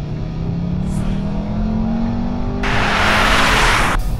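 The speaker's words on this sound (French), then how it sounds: "boîte séquentielle en mode sport et on se laisse aller sur la pédale des gaz" A 200 hp VW Beetle with a sequential gearbox in sport mode accelerates hard, its engine note climbing steadily and loudly through the gears, ending in a bright roaring burst of full throttle.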